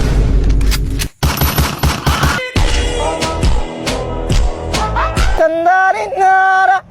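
Rapid bursts of gunfire from a newly acquired gun being test-fired, loud and close, with short breaks between volleys and a few sharper tonal squeals toward the end; no talking.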